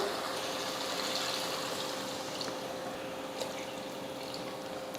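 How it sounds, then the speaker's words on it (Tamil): Water poured into a pressure cooker holding soaked basmati rice for chicken biryani, a steady hissing trickle that runs unbroken, close and fairly quiet, with no voices. "இதில் ஒன்றரை கப் தண்ணி சேர்த்துக்கலாம்"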